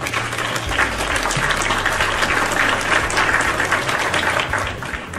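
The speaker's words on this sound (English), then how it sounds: "you and your friends get a round of applause" Audience applause on a talk show about dating profiles, a thick, steady roar of clapping with low rumbling hum beneath, loud and sustained the whole time before tapering slightly at the end.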